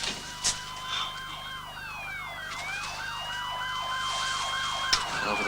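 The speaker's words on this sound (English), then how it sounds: "what about those sirens? What sirens? The ones fast approaching?" Wailing emergency sirens sweep up and down continuously, growing steadily louder as they approach, with a couple of sharp knocks in the background.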